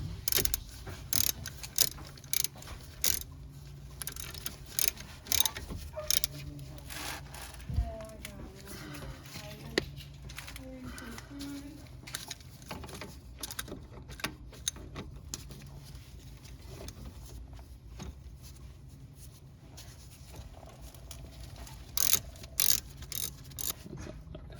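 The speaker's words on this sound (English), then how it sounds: "All you gotta do, torque these guys down just to 20 foot-pounds." Rapid ratcheting clicks from tightening the 14 mm wheel bearing bolts on a Nissan Altima front hub, a steady busy mechanical chatter throughout with brief louder bursts, close by.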